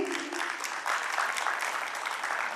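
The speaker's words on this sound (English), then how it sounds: "गुंजन खोड़ा, तालियों से मोटिवेट कीजिए." Audience applause at a school annual function at Stanford Global Academy in Ramnagar: a brief burst of dense, even clapping from many hands, close and continuous throughout.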